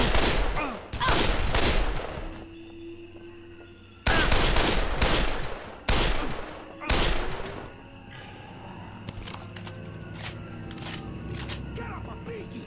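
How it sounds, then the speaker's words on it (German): Gunfire in the zombie video game Dead Island, several loud bursts of shots in a row with pauses between them, followed by quieter game ambience. "Verdammt, wer schießt denn da auf mich?"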